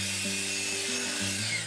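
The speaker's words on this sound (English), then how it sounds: "There's a drop saw." A drop saw whirs steadily through wood on a construction site, its pitch shifting as the blade bites, loud and close with no voices.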